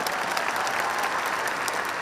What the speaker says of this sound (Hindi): एक बार दोबारा तालियां मारना प्लीज इस बात को